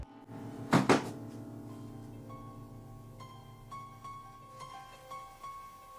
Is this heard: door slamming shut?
yes